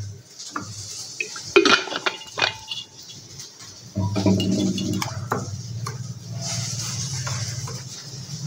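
A spoon stirs spice powder and salt with a little water in a bowl to make a masala paste for a fish-head curry, giving close, intermittent metallic clinks and scrapes against the bowl.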